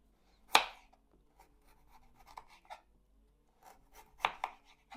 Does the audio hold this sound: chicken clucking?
no